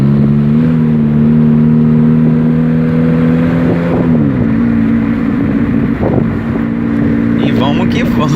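Chevrolet Cruze automatic with a modified exhaust diffuser revving loudly and steadily, a droning engine tone holding then dropping, close and continuous under wind noise with brief talk.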